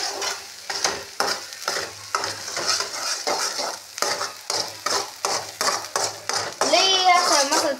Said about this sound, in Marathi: तेलात मसाला टाकलाय परतून घ्यायचा चांगला मस्त पैकी